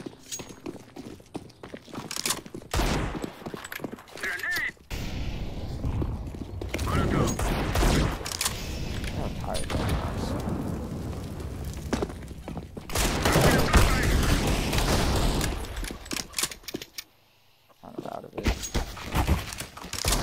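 A submachine gun fires in video game combat in rapid bursts separated by brief pauses, with some scattered impact and footstep-like noises in between and no clear talking.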